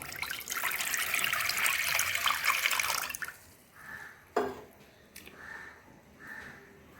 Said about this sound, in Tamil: முதலில் சட்டியை அடுப்பில் வைத்து இருநூறு மில்லி லிட்டர் நீரை